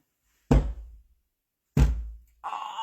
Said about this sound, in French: je me pète les coudes en même temps que je fais ça